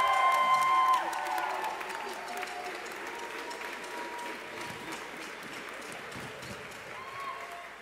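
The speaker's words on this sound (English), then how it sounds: "Give her a big round of applause." An audience applauds and cheers an award recipient at a school music event, a wash of crowd clapping and voices that starts strong and settles into a steady, slightly softer level.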